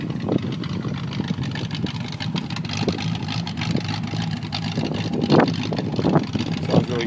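A 1970 Pontiac Catalina convertible with a V8 and dual exhaust idles just after a cold start, a steady, close, rumbling burble with a few louder surges near the end.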